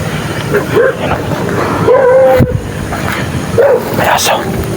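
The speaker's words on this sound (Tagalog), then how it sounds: "May aso." A dog barks in short yelping bursts outdoors, three separate calls spaced a second or two apart, with wind and faint background noise and some nearby human voices.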